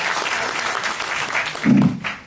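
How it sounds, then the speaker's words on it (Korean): Audience applause at a Korean political talk concert in Mapo welcoming a young speaker, a steady wash of clapping through the clip that swells briefly near the end. "여러분 큰 박수로, 네, 맞아주시기 바랍니다"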